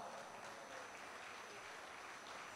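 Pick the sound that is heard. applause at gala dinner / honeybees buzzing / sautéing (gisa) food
applause at gala dinner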